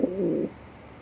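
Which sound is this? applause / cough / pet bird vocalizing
pet bird vocalizing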